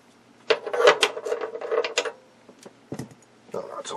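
Hands rummage through a socket set during a Philco Predicta radio restoration, producing close metallic clinks, rattles and scraping of sockets jostling in a case, in short irregular bursts.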